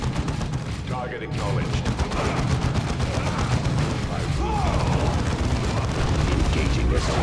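A grenade blast and rattling gunfire from Dawn of War 2 run continuously through a dense battle din, with a short burst of talk heard over the combat.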